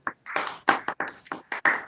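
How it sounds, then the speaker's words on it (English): Audience claps at a school Republic Day celebration, heard as a series of short, irregular bursts of hand claps from a nearby group rather than a sustained ovation. "I think is worthy of a big round of applause for our"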